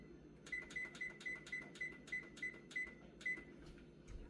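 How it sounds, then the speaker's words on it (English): A kitchen timer being set while potatoes boil, about ten short, evenly spaced electronic beeps, close and crisp over a faint hum. "Now I'm going to hit the timer here."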